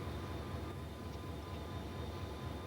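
J-Class 4-8-4 steam locomotive No. 611 hauls a heavy train gently down sharp curves, a steady low rumble and rolling rail noise holding at constant level throughout.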